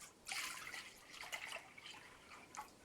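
Milk pours into a pan, a soft trickling, splashing liquid sound in several faint surges over a few seconds, close and quiet with no talking.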